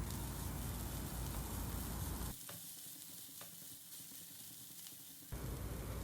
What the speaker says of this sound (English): we'll saute them on medium flame for just 1 to 2 minutes